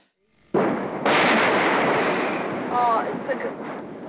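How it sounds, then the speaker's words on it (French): A huge meteorite explosion hits as a sudden deep boom that swells into a long, roaring, rumbling blast, with a second surge of noise and crackling echoes, while voices speak over the tail end. "there's just been the most huge explosion"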